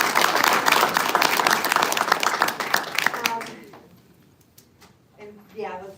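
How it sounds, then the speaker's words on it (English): Audience applause at an evening Q&A gathering with Michigan GOP Chair Kristina Karamo, dense clapping for about three seconds before fading into scattered claps and a brief murmur of voices. "let's give her a big round of applause"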